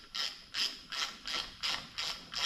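An 8mm Allen key tightens a mirror mount with six evenly spaced ratcheting clicks, close and crisp, no voices present.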